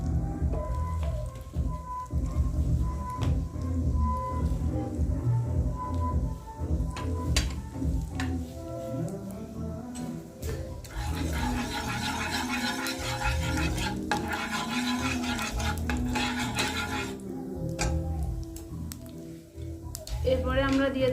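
Black cumin seeds sizzle in hot oil in a pan for kachori with green peas. The crackling spitting is continuous, with sharp stirring clinks and scrapes, and it grows denser in the middle.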